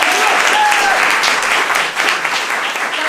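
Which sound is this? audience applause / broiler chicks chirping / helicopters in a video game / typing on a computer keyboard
audience applause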